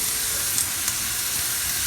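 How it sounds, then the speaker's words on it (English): Vegetables stir-frying over a high flame in a hot pan for a peppery tofu dish, giving a loud, steady, close sizzle with no pauses. "cook it quickly on high flame. The flame is high because we want the vegetables to be a bit crispy"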